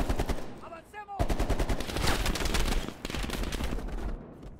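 Rapid machine gun fire in Call of Duty: Cold War, loud, close and sustained, with a brief pause before it resumes, and a faint voice briefly underneath.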